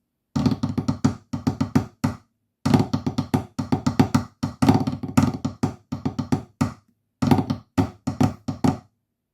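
Marimba playing the third part of the Illawalla solo, with quick runs of mallet strikes grouped into phrases and separated by short pauses, close and steady in volume with no voices.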